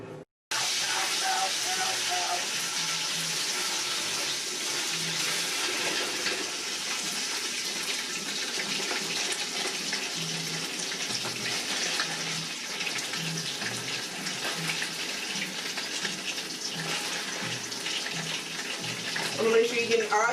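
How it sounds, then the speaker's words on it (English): Oil sizzles and hisses steadily in a pan, hot enough for frying jollof rice, a loud, continuous frying sound that carries on for the full stretch. "So let's get to frying."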